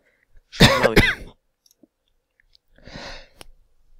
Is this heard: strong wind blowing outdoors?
no